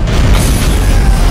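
A loud, deep boom in the sci-fi video game Dead Space 3 lingers as a heavy, close rumble through a short burst, with no talking.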